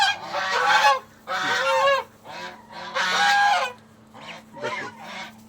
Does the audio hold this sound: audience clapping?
no